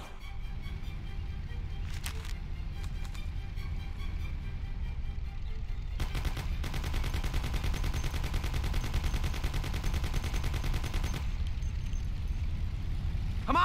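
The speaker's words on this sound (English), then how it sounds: "Take my Thompson. You and Sam shoot them." Thompson submachine gun firing in the video game Mafia, with rapid automatic bursts: a short stutter early, then a long sustained volley of several seconds, over a steady engine rumble from a moving car.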